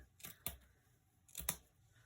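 Scissors cut burlap at a craft table, giving two quick pairs of faint, close snips separated by a short pause.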